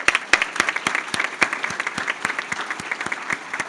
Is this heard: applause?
yes